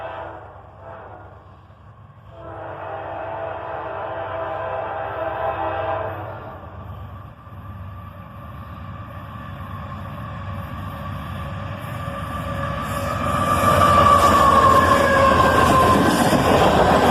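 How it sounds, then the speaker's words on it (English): A southbound CSX tanker train pulled by a single AC-44CW locomotive rolls past, a steady rail rumble and wheel noise swelling as it nears, with sustained horn-like tones growing louder toward the end. "A single AC-44CW pulls this southbound tanker train."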